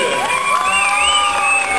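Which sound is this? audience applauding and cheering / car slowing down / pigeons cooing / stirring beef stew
audience applauding and cheering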